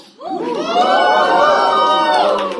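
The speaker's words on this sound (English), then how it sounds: "People in this audience who love a sari, give me a cheer." A stand-up comedy audience erupts in loud cheering and whooping, a sustained crowd roar that swells quickly and holds for a couple of seconds.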